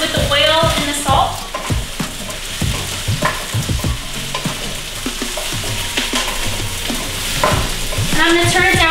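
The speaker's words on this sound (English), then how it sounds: "Go ahead and add our mushrooms. Really nicely, so it gets coated with the oil and the salt." Mushrooms sauté in olive oil with salt in a pan, a constant close sizzle broken by repeated scraping and clacking as a utensil stirs them, with a person talking at the start and end.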